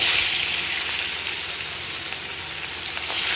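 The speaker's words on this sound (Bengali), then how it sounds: "এই ইলিশটা এখন একটু ভেজে নেবো গরম তেলে" Hilsa fish fries in hot mustard oil, a strong close bubbling hiss that holds steady throughout with a brief swell near the end.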